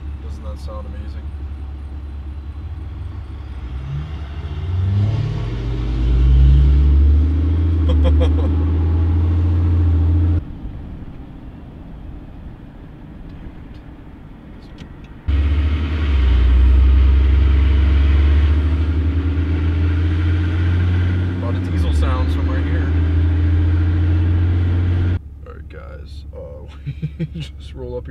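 A Cummins diesel truck engine with white exhaust stacks rumbles close by in deep low bursts, swelling twice into loud revs that cut off abruptly, with talk and background voices over it.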